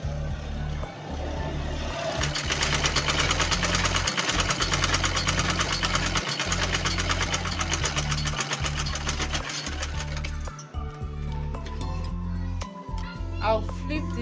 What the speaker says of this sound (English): So I'll sew it lining to lining.